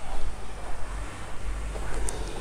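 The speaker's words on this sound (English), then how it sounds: "look at the ocean. So flat and calm." Calm ocean waves wash onto Lamai Beach on Koh Samui, a steady surf hiss nearly buried under heavy wind buffeting the microphone, with no talking.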